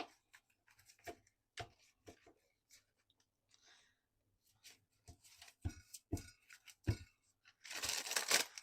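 Tarot cards are shuffled in a quiet room. Soft papery flicks and taps come at irregular intervals, close but faint, and end in a louder burst of rapid riffling.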